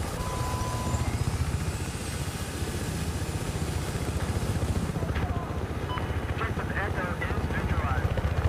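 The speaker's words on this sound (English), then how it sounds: "Chopper." A helicopter in Battlefield 4 roars close by with a loud, continuous rotor-and-engine drone throughout, steady in level.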